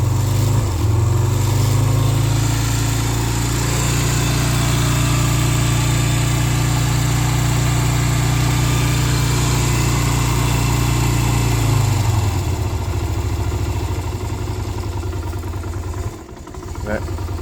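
A Yamaha Virago 125cc motorcycle engine idles just after starting with the choke on, a loud steady low rumble that settles and wavers near the end, with no talk over it.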